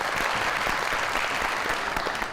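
Studio audience applause for a guest arriving on a TV talk show, a dense steady wash of clapping, loud and sustained throughout with no pauses.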